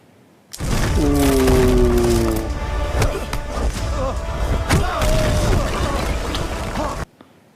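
A missile explosion from the film Pathaan: a loud sustained booming blast with cracking, splintering debris, a brief tonal whine near the start, and a voice over it.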